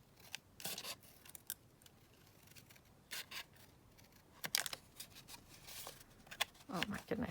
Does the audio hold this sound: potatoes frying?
no